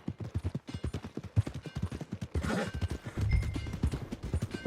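Horse hooves clip-clop steadily at a walking pace in Red Dead Redemption 2, a close rhythmic clatter that thickens partway through as other low game sounds rise beneath it.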